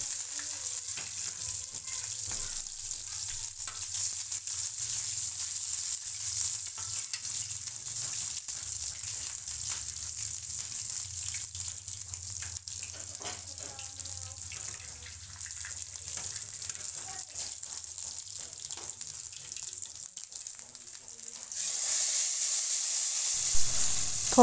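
Steady frying sizzle of hot oil as a tempering is made, a continuous bright hiss with faint stirring clicks, growing louder near the end.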